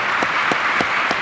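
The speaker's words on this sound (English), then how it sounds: "please just give a round of applause to you" An audience applauds at a talk on climate activism, a dense, steady wash of clapping throughout the short stretch, with a few sharper claps standing out at regular intervals.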